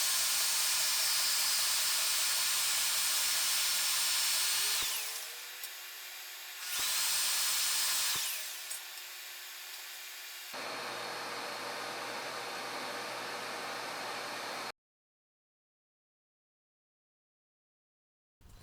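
A bandsaw in a workshop runs inside a fully paneled dust enclosure, giving a loud, steady hissing whine with abrupt starts and stops, then a lower continuous hum before sudden silence, with no speech.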